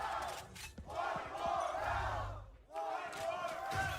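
An esports arena crowd roars and chants in swelling waves, loud rhythmic shouting rising and falling with a brief dip midway before surging again.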